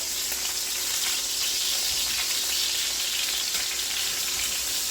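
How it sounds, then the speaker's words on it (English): Beef shanks sear in a hot pan with a loud, steady, unbroken sizzle that holds at full strength throughout, with no voices over it. "you'll be searing it for a couple of minutes on each side"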